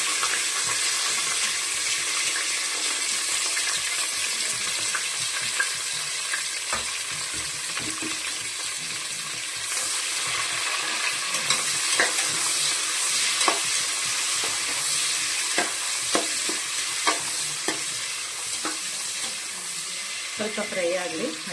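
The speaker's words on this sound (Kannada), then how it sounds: "ಸ್ವಲ್ಪ ಫ್ರೈ ಆಗಲಿ. ಹಸಿ ವಾಸನೆ ಹೋಗಿ ಈರುಳ್ಳಿ ಎಲ್ಲ." Onions frying in hot oil with fennel seeds, cinnamon, cloves, cardamom, marathi moggu and bay leaf for chicken pulao, a continuous loud sizzle with scattered spatula clinks and stirring, and faint speech now and then.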